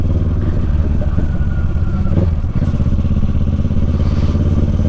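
Motorcycle engine idling steadily up close at an event registration check, a continuous low rumble with some clattering knocks.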